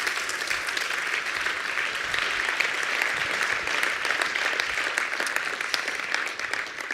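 An audience applauds at a university entrepreneurship and innovation hub launch event, with continuous, fairly loud clapping that runs steadily throughout and eases slightly at the very end.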